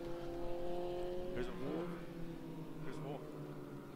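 Formula First race cars at a New Zealand one-hour race passing the finish line, engines droning with a couple of distant pitch-shifting pass-bys, faint under continuous commentary.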